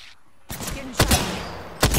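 Gunfire in the battle royale game Apex Legends: after a quiet start, loud rapid bursts of shots crack out close by, with a couple of heavier hits spaced through the firing.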